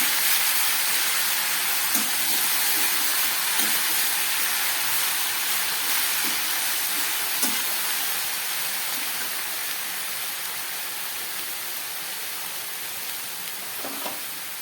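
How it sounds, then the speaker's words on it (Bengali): Cooked pumpkin greens and lentils sizzle in a pan under a steady hiss, with soft scraping spatula strokes stirring them at irregular intervals, close and without talk. "এবার আমি খুব ভালো করে এই শাকটাকে খুন্তি দিয়ে নেড়ে চেড়ে একটু মিশিয়ে নেব।"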